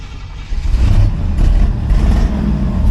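A car engine rumbles and revs up right after ignition as gas is given, the loud low drone rising and holding steady for a few seconds, close by with no voices.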